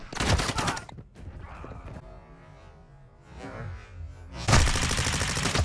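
Call of Duty: Modern Warfare II gunfire: two loud bursts of rapid automatic shots, one at the start and one at the end, separated by a quieter stretch of distant game noise.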